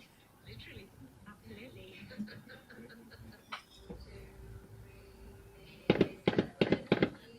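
Murmured talk and a chuckle, then a rapid cluster of sharp, loud gunshots in quick succession near the end.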